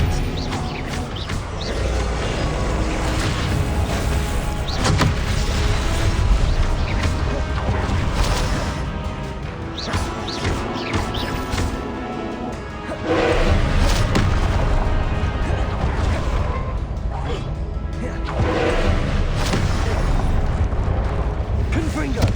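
Repeated Confringo blasting-spell explosions in the Hogwarts Legacy video game, a dense run of booming, crashing bursts over busy game noise lasting throughout, loud and close.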